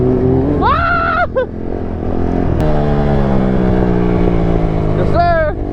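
A two-stroke quad engine revs in rising, wavering whines, stumbles and bogs out, then settles into a steady drone before another sharp rev near the end, with voices mixed in.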